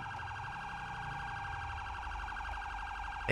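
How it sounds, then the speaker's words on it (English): A police car siren wails continuously in the GTA V video game, its fast, rising-and-falling electronic tone loud and steady over a low engine hum. "Oh, of course, he's got his siren blaring"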